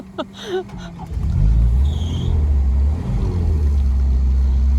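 A car frozen to the ground after a thaw and a hard winter frost, its engine rumbling loudly and revving steadily as the stuck wheels fail to break free; a brief voice is heard just before the engine noise.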